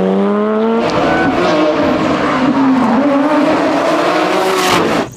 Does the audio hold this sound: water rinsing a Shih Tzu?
no